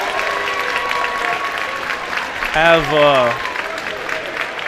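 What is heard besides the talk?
crowd and opposing bench applauding the cheerleaders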